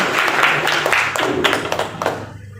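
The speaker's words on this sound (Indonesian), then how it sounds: "tepuk tangan untuk kita semua" A room of teachers at a workshop claps together in a brief burst of hand applause that fades out toward the end, close and moderately loud.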